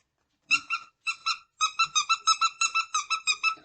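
A squeaky unicorn dog toy is squeezed repeatedly, making loud, close, high-pitched honking squeaks, first in two pairs, then in a quicker, fairly steady run of about a dozen, with no talking.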